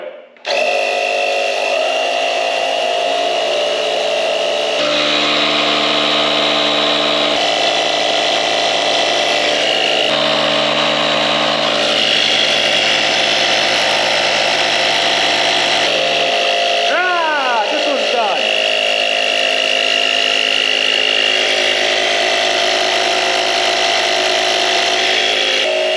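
Two cordless tire inflators, a DeWalt 20V Max and a Harbor Freight Bauer, run side by side in a steady, loud mechanical drone with shifting pitch as pressure builds, continuous for the whole stretch, close and without pauses.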